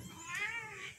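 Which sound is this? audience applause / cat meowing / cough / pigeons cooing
cat meowing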